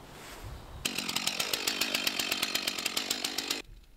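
A chainsaw cuts through wood, loud and close, with a rapid regular chatter for about three seconds before it stops abruptly.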